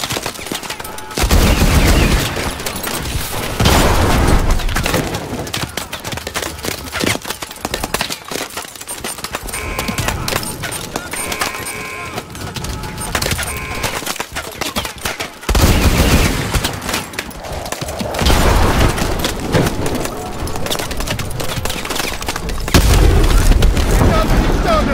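Gunfire and rocket explosions strike a Titan in the video game Call of Duty: Advanced Warfare, with sustained loud bursts and heavy booms that briefly drop off midway, then return at full force; voices speak over the combat.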